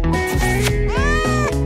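A cat meows loudly and close in a sound-effect style, two drawn-out, tonal meows with rising and falling pitch filling the short clip, no speech.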